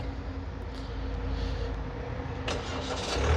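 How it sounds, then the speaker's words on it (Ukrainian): A 2022 Hyundai Tucson 2.0 diesel starts by remote, turning over and settling into a low idle, with a brief higher whir near the end; no talking. "Машина у нас запустилася."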